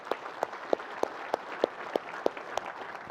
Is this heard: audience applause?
yes